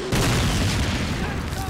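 Gunfire and booming explosions from the 2003 Call of Duty video game, a dense loud burst of blasts running continuously, with a voice talking over it.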